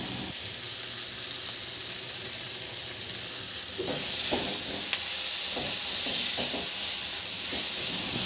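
Tomatoes frying in a pan after being seasoned with salt and pepper, a steady bright sizzle with bursts of crackling and occasional scraping of stirring.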